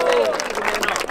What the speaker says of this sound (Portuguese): Salva de palmas pro menorzinho aqui